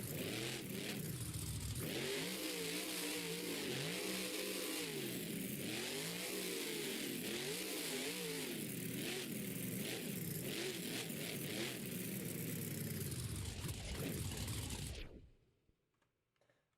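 The Megalodon monster truck's engine roars and revs in waves at an Anaheim stadium show, loud and sustained with rising and falling pitch, then cuts off abruptly near the end.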